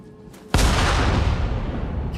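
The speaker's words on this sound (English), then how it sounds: "Cannon fire!" A cannon fires in the video game Nioh 3, a single loud close boom that hits suddenly after a quiet moment and rolls off into a long rumbling decay.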